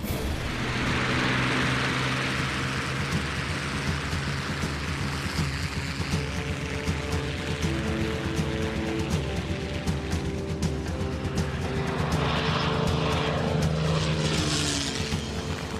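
A P-51 Mustang's propeller engine roars steadily and loudly throughout, a dense, continuous drone with a rising whine as the throttle is pushed forward, heard up close without talk.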